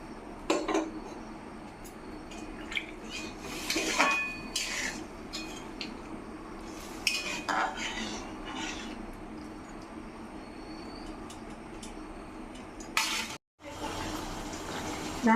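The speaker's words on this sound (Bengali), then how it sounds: "আর একটুখানি জল দেবো।" Spoon clatters and scrapes against a cooking pot as water is added to a potato and shola kochu (taro) curry and stirred, with intermittent close metallic knocks and a soft watery wash, no talking.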